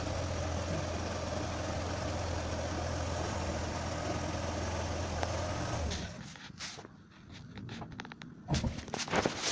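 A car engine idles steadily during an antifreeze change and radiator and engine block coolant flush. The low hum runs evenly, then gives way partway through to quieter, irregular handling noises.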